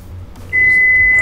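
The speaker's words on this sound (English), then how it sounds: "I warm my coffee up. My coffee, and it doesn't ever beep this much." A microwave oven finishing warming coffee gives off a sustained, loud electronic beep that starts partway through and holds steadily to the end, with faint room noise before it.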